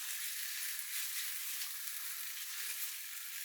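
King prawn curry paste fries steadily in a pan, a continuous bright hiss and crackle of sizzling at moderate, even loudness with no talking.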